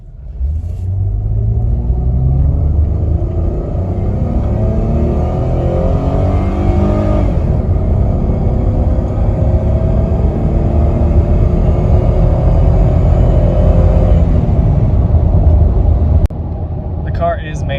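A lowered Chevrolet Malibu Maxx, heat soaked after hours of driving, accelerating hard from 0 to 60, its engine note climbing through rising gear sweeps over a loud interior rumble, with a voice talking inside the cabin.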